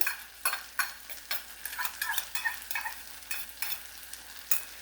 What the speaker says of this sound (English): we're just going to cook our garlic until it becomes fragrant